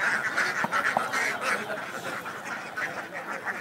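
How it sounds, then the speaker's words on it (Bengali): Ducks and geese for sale at the large Putia livestock market in Narsingdi quack and honk repeatedly in a busy chorus, close and moderately loud against a murmur of market bustle. "মানে যা আছে সবই হাঁস অধিকাংশই রাজহাঁস পাতি হাঁস বিভিন্ন ধরনের হাঁস"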